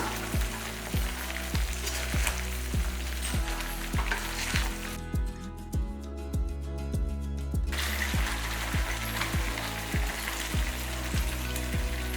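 Steady sizzling of ground spice paste sautéing in a pan for pepper curry, with a rhythmic scraping or stirring tick repeating throughout; no talking.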